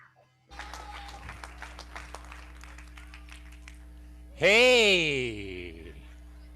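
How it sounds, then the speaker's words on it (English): Scattered audience clapping at a spring retreat gathering in Talladega, Alabama, fairly thin and moderate, then a loud rising and falling electronic tone or feedback-like sweep cuts in over it and slowly fades. "Let's stand to our feet and give him a huge round of applause"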